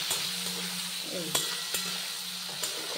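Tomatoes frying in a pan with onion, a steady broadband sizzle, a low hum running beneath it and a few sharp clicks of stirring spread through.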